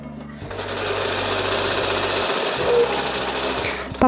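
A sewing machine stitches blouse sleeves with a steady, close, continuous whirring run, starting after a short pause and holding loud throughout with a brief dip near the middle.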